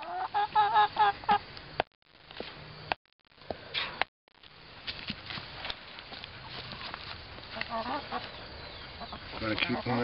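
Chickens cluck and call close by, a busy irregular stream of clucks over steady outdoor background, with brief dropouts early on.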